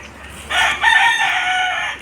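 A rooster crows once in the afternoon on a rural provincial farm: a loud, close, drawn-out call lasting about a second and a half, with no other sounds around it.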